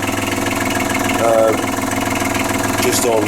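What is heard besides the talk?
engine idling at 800 rpm tick over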